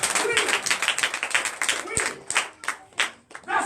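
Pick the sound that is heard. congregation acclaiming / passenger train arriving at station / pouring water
congregation acclaiming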